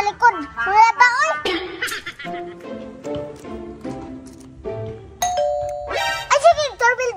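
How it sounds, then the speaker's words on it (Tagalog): Home doorbell chiming several times, bright ringing tones repeating across the stretch with pauses between, mixed with children's voices and chatter nearby. "Ay sige, doorbell mi."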